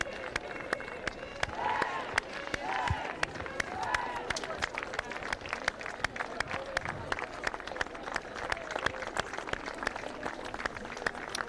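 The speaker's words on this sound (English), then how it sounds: "our Waterloo stalwart crowd are out here cheering and in good voice" Home supporters at a women's Premier 15s rugby match between Firwood Waterloo Ladies and Darlington Mowden Park Sharks clap and cheer at a distance in an open-air crowd, with a steady patter of applause and scattered voices throughout.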